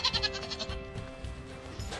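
A goat on a farm bleats in a quick series of wavering calls, fairly close and moderately loud, over a faint background hum.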